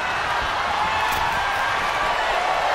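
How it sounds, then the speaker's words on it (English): A capacity arena crowd in a WWE 2K23 wrestling match keeps up a steady, dense roar with faint scattered clapping, sustained and loud throughout. "you hear this capacity crowd following you on that journey"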